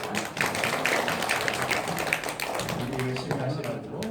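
Audience applause in a Korean church quiz event, a steady wash of clapping running for several seconds, with a voice speaking over it near the end.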